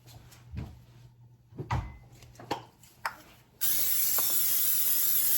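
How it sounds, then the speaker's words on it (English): A casserole dish is coated with cooking spray: a few scattered clicks and rattles of handling come first, then a loud, steady hiss of the aerosol that runs on to the end. "Now we're going to spray us a casserole dish with cooking spray"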